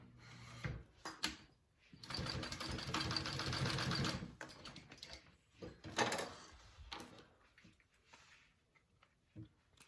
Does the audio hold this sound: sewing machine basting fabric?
yes